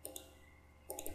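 Computer mouse clicks at a desk, a quick pair of light taps followed after a pause by a short cluster of several more, close and quiet.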